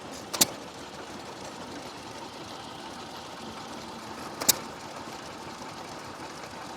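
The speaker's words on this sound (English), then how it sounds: "It's a little Stover engine. They're actually a Stover, they've badged them as a Cooper engine here in Australia." A small Stover stationary engine, badged as a Cooper in Australia, runs at a vintage engine rally in Speewa, with two sharp firing pops about four seconds apart over a low, steady background.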